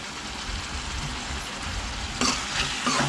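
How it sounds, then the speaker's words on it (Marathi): Chopped onion and tomato sizzle and fry in a pan after salt is added, with stirring. A steady crackling sizzle runs throughout and gets brighter and louder in the last second. "मीठ टाकल्यावर हे कांदा आणि टॅमॅटो लवकर शिजेल"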